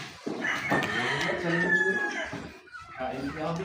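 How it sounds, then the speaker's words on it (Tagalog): A red junglefowl rooster crows once, loud and close, with a long drawn-out call, while people talk nearby. "Maganda tilaok na to."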